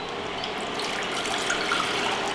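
Water is poured steadily from a tap or container into a pot for cooking grits, a continuous splashing gush heard up close with no voices.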